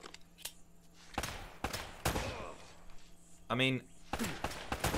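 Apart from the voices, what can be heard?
gunshots in Uncharted video game firefight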